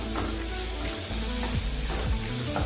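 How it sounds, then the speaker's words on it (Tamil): Tomatoes being sautéed in a pan for sundakkai vathal kuzhambu, giving a steady close sizzle and frying hiss with a few soft stirring scrapes throughout. "இது போல் நல்லா வதக்கிடணுங்க நல்லா மசிஞ்சு வரணும் தக்காளியெல்லாம்"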